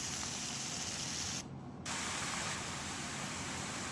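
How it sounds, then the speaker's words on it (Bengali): Kharkol leaves sizzle in hot mustard oil with a dense, steady, hissing fry heard up close, briefly dipping for a moment before resuming just as strong. "তো তেল গরম হলে খারকোল পাতাগুলোকে দিয়ে দিলাম তেলের উপর।"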